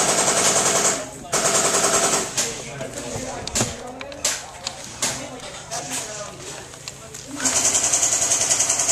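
Airsoft M14 rifle fire during a woodland skirmish, a loud dense burst of rapid shots at the start and again near the end, with scattered quieter shots and movement between them.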